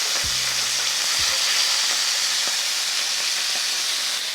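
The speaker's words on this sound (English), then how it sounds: "you do the searing process that we just did" Oxtail pieces searing in a hot skillet give off a steady, loud sizzle and hiss that fills the whole stretch, while a voice speaks briefly at the start.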